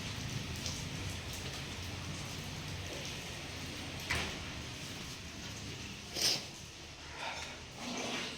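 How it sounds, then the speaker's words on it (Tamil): Steady rain patters in a broad hiss with a few louder drips and knocks scattered through it, no voices. "பாருங்க மழை பெஞ்சிட்டு இருக்குது"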